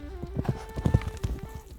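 A horse's hooves clip-clop in a steady, close rhythm of several quick strikes on a hard surface, with no talk over it.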